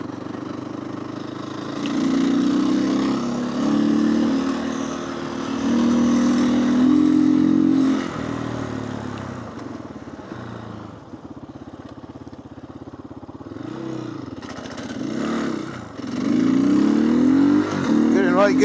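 A GPX off-road motorcycle engine runs steadily at a medium pitch while riding along, rising and falling in revs with gear changes, close and fairly loud beneath someone talking throughout.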